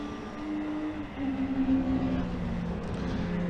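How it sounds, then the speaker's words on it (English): A BMW E36 race car racing at Brands Hatch, its engine induction roaring loud and steady with a rising tonal drone, mixed with other circuit noise and no talk. "The induction noise of that BMW E36 is glorious."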